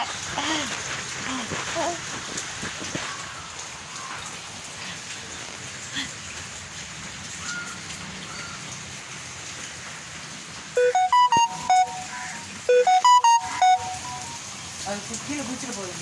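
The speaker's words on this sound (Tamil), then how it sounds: "எங்கள் ஊரில் மழை பெய்யுது." Constant rain hissing and pattering, joined near the end by a brief run of electronic beeping tones.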